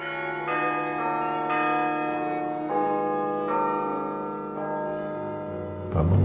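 Carillon church bells ring out in Jerusalem, playing a slow melody of overlapping tones that sustain and blend into one another, loud and clear, with a sharp knock near the end.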